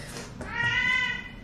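A cat gives a single clear, drawn-out meow, asking to be let outside, close to the microphone and heard alone.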